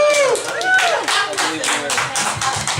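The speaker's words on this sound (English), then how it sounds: "Give him a round of applause." Audience at a Tabernacle of Hedonism show applauding and cheering, with dense clapping and crowd noise throughout and a voice carrying over the top at the start.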